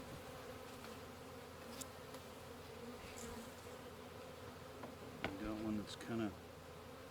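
Honeybees hum steadily at an open hive outdoors, a soft continuous drone with a few louder buzzes passing near, while a person speaks briefly over it.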